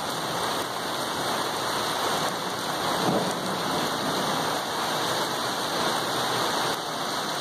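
Heavy rain pours down steadily in a loud, continuous hiss, with a low rumble of thunder rolling under it about midway through.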